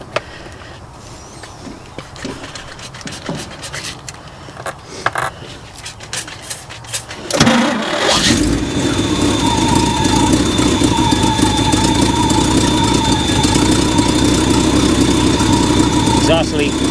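An old Chevy dump truck's large diesel engine with headers starts up midway and settles into a loud, steady idle with a rough, ticking rasp from an exhaust leak; quieter clatter and activity come before it.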